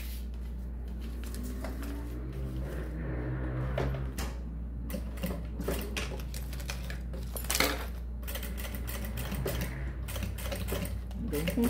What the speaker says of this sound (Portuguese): vou passar uma costura aqui, rebatendo, fazendo um pesponto aqui.